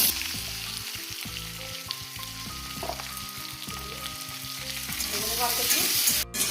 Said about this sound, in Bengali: তেল গরম হয়ে গেছে, আলুটা একটু ভেজে নেবো